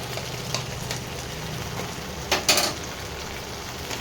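Spices fried and stirred in a pan for chana achar, with Kashmiri chilli powder, hot chilli powder and coriander powder; a low steady sizzle carries a few scraping clinks of the spoon against the pan.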